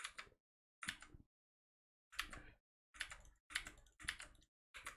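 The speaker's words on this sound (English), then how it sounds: "So like I'm just typing leave everywhere." Typing on a computer keyboard in short separate bursts of close, clicking keystrokes with silent gaps between them, with no voices.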